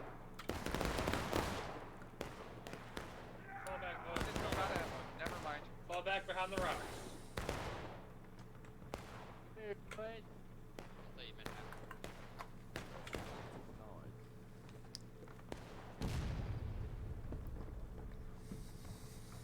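Musket volleys and artillery fire in a Civil War battle game, heard as sharp irregular cracks and bursts, some heavy booms, spread through the clip under talking voices.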